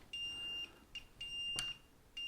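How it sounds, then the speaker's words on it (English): A water leak sensor alarm beeps in a repeating pattern of long, shrill tones with short gaps, fairly loud and close, with no talking. "it's going to give us this beep"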